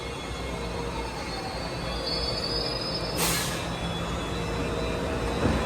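A train rolls in on the rails at a station platform with a steady rumble and a high metallic wheel squeal, growing a little louder partway through, no talking.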